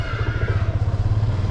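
A motorcycle engine runs close by with a loud, low, evenly pulsing throb that holds steady throughout, no voices over it.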